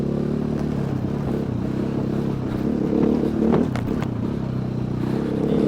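A KTM EXC 450 dirt bike engine drones steadily while riding, a continuous low rumble with a slight swell partway through, fairly close and without talk.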